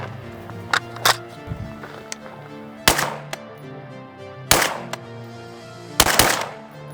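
Rifle shots from a Mark II 62 load through an 11.5 barrel fitted with a SureFire 4-prong RC3 flash hider: four sharp, loud reports spaced a second or two apart, with a couple of smaller clicks and rattles between them.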